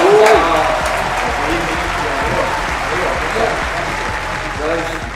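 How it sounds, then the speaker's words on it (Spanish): Studio audience applause welcoming a guest, loud steady clapping lasting about five seconds alongside voices. "Aplauso."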